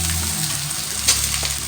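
Onions hit hot oil in a wok and fry with a continuous, crackling sizzle, close and moderately loud, with a brief clatter midway and no speech.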